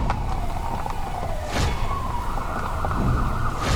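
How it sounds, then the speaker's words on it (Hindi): An ambulance siren wails in an animated Hindi story, a loud continuous tone that rises and falls steadily, heard alone without voices. "एम्बुलेंस बुला जल्दी।"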